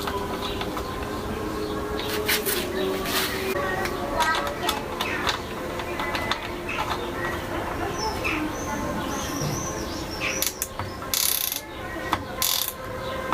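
A front derailleur shift lever and cable housing on a Chinese TT01 bicycle is tightened, giving faint, sparse mechanical clicks and ratcheting with a short cluster of sharp clicks near the end, heard alongside quiet talking.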